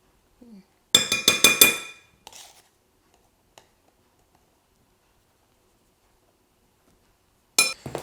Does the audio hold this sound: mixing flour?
yes